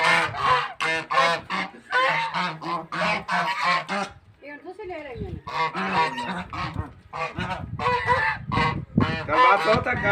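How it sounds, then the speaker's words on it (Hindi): Ducks or geese honk and quack in rapid bursts close by, with a short pause midway before the loud calls resume. "ये बत्तख"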